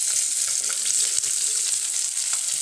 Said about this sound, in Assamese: ইয়াত এতিয়া মই কাটি থোৱা পিঁয়াজ নহৰু আৰু এই কেঁচা জলকীয়াখিনি ভাজি ল'ম